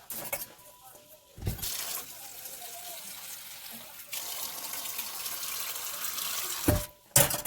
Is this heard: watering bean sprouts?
yes